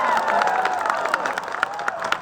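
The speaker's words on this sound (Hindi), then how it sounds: "सभी लोग इनके लिए ताली बजाकर स्वागत करो।" Crowd at an outdoor political rally in Mon town clapping in welcome, a steady spread of applause with scattered sharper claps and a voice faintly over the noise.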